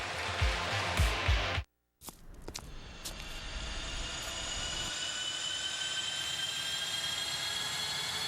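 Airplane jet engines spool up in a radio advertisement, a rising, steady whine with high tonal lines that builds after a brief silence, following a few rumbling thumps and a sharp burst.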